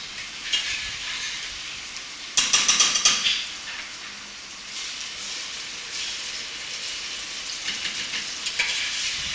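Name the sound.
blended tomatoes stirred in a pot for jollof rice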